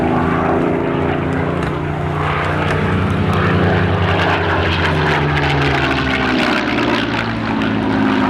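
Spitfire MH434, a vintage propeller-driven fighter, roars past at an air festival with a loud, steady engine drone and shifting harmonic tones, sustained throughout without pause.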